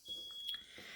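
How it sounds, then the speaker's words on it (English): A thin, high electronic beep from a smoke alarm rings faintly in the background, with soft chewing or crunching sounds up close. "That's our smoke alarm going off, but pay it no mind."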